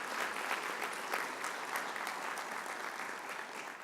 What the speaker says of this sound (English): Let's give our seniors a big applause for their support to this fellow community members.